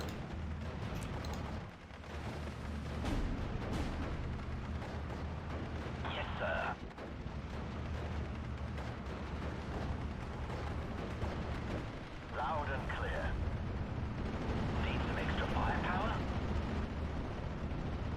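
Artillery fire in the Steel Division: Normandy 44 video game, a constant low rumble of distant booms and crackling impacts running throughout, with a few brighter bursts and voices talking over the battlefield.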